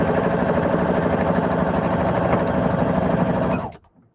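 Sewing machine stitching fabric in a steady, fast mechanical whirr with rapid ticking needle strokes, running loud and close before stopping abruptly near the end.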